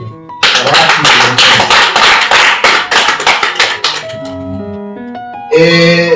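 Audience applause at a family celebration, a burst of dense clapping lasting a few seconds, then fading into softer tones and a brief tonal sound at the end.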